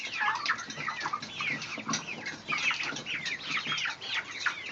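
Australorp chickens, hens that have gone broody, cluck and call close by in a busy, overlapping stream of short warbling notes that goes on without a break.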